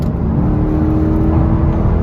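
Engine of a 2011 Mercedes SL63 AMG, a loud, steady low rumble and whir held at high revs for about two seconds, close and continuous with no talking.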